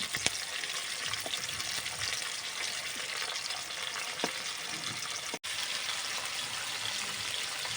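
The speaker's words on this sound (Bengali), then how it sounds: "তেলের মধ্যে পেঁয়াজ ছেড়ে দিচ্ছি।" Onion hitting hot white oil in a pan sizzles and crackles steadily, a close, even frying hiss with a few sharper pops and faint stirring.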